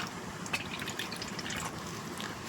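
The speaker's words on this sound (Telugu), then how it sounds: "వాటర్ పోసేసుకోవాలి." Water poured into a mixed batter or mixture in a home kitchen, a steady close trickling and splashing that runs for the whole few seconds without any talk.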